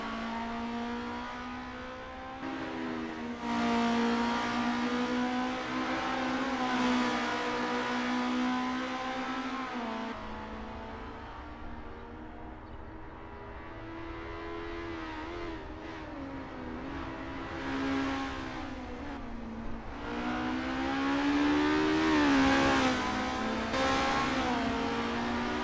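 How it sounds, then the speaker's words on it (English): A Renault race car on a practice out lap at Zandvoort holds a steady, loud engine drone for the whole stretch, with its pitch rising and falling through gear changes and revving. "Renault 99 is on their practice out lap."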